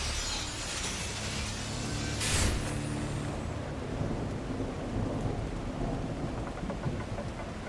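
A thunderstorm rolls through The Last Caretaker video game, with a sharp thunderclap early on over steady heavy rain and wind, plus a low continuous rumble.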